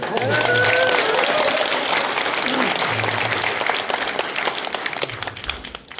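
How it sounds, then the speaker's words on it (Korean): Applause from an audience at a public debate on Korean democracy fills the room, steady and sustained, with someone talking over the clapping. "저한테만 박수 보내지 마시고 저기 우리 진 교수님한테 박수 좀 많이 보내주시고."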